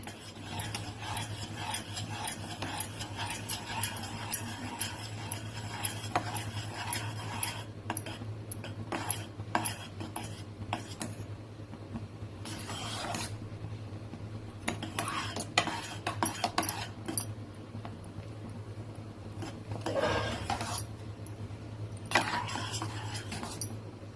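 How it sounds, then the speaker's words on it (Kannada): Halwa stirred nonstop in a pan over a medium flame: a spoon scrapes and clinks against the metal in a continuous, uneven rhythm, with a low steady hum underneath, close and fairly quiet. "ಚೆನ್ನಾಗಿ ಕೈ ಬಿಡದೆ ಕಲಿಸ್ತಾ ಇರಬೇಕು."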